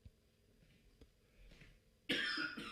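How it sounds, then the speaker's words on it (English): A person coughs nearby, with a few faint small coughs followed by one louder harsh cough near the end. "I don't know why I'm coughing."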